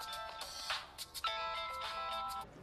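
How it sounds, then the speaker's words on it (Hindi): A mobile phone ringtone plays in short melodic bursts, repeating a few times at moderate volume with no talking. "ये उसी का फोन है।"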